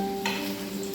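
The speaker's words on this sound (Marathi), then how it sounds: "मंद गॅसवर भाजून घ्यायची फ्राय करून आणि मध्ये मध्ये झाकण उघडून परतायची" Stuffed spiny gourd frying in a pan over a low flame, a constant close sizzle with a brief scrape of stirring near the start.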